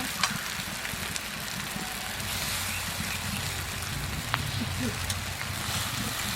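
Pre-boiled chow noodles tossed into a frying pan with prawns and sauce for chow mein, a steady crackling sizzle with occasional clicks and clinks as a voice talks over it.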